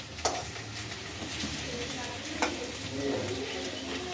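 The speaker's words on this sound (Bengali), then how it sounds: "এরপর যাবে ঝিঙে গুলো।" Sliced ridge gourd sizzles in hot oil after potatoes have been fried, with a steady close frying hiss and occasional scrapes of a spatula stirring the pan, while someone talks nearby.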